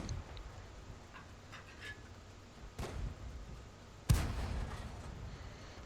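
Cannon shots from an SU-76M tank destroyer in a World of Tanks-style video game, two sharp booming reports a little over a second apart, the second louder, over faint steady game ambience.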